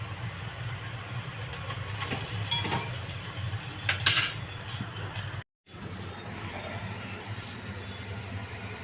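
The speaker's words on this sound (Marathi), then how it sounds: "कांदा फ्राय करून घेते. इथे आलं लसूण पेस्ट घालते थोडीशी." Sliced onion frying in a pan with a little ginger-garlic paste for a mixed vegetable masala with paneer, a steady soft sizzle with occasional stirring clatter and no talk.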